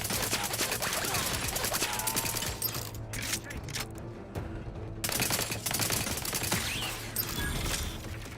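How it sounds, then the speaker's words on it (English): Turrets fire in Outer Worlds 2, dense rapid bursts of gunfire with mechanical clatter, loud and continuous, with a short lull in the middle before the shooting resumes. "They got turrets."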